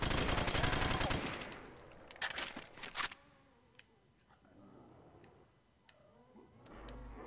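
A G36 rifle fires in Call of Duty custom zombies, with a rapid burst of loud close shots at the start, then a few scattered shots and quieter game sounds.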